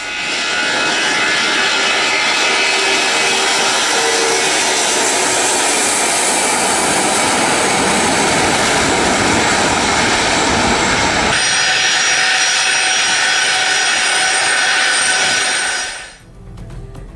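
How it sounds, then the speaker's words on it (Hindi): Aircraft engines of a Russian doomsday plane roar as a loud, steady broadband jet rumble for about sixteen seconds, then drop away abruptly at the end. "रूस ने अपना बेहद सुरक्षित डूम्सडे प्लेन तेहरान भेजा है"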